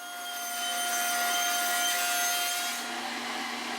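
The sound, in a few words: table saw cutting wooden boards into strips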